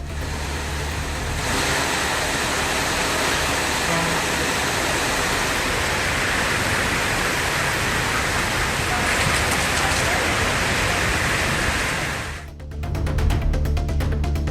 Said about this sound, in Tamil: பலத்த காற்றுடன் கனமழை பெய்ததால் குளிர்ச்சியான சூழல் நிலவியது